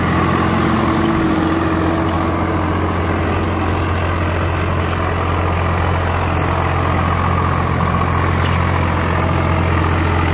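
A Swaraj 744XT tractor engine runs in fourth gear at about 1700–1800 RPM, a loud, close, constant low diesel drone with a steady hum throughout.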